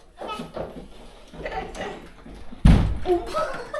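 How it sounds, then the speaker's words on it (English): A door at a resort swim-up room in the Philippines slides and shuts with one loud thud near the end, after a stretch of people chatting nearby. "Yeah, it's a door."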